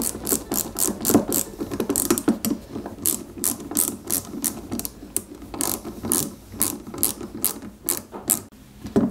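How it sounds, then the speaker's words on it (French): Ratcheting clicks of a screwdriver tightening screws while assembling a 1/8-scale KITT Pontiac Firebird model kit, a close, rapid series of sharp ticks in irregular bursts with no talk. "Et on visse"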